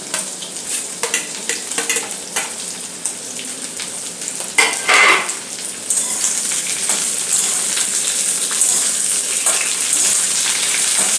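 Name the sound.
potatoes frying with pointed gourd in a pan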